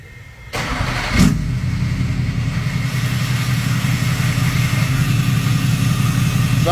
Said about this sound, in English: we just finished putting the YiKatoo 5-inch Duramax exhaust on, and here's the first start.